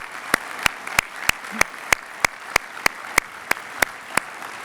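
An audience at a 2019 national security summit plenary applauds, heard as a steady run of sharp, evenly spaced claps close to the microphone, with no speech over it.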